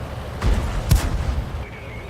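A Churchill VII tank's main gun fires at an M4 in a video game, one sharp, loud boom near the middle, with a softer report just before it and a rumbling tail after.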